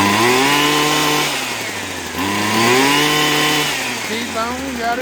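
A Husqvarna hedge trimmer engine runs on choke, a loud close two-stroke buzz that rises and sags in pitch as it revs unevenly, while someone talks over it.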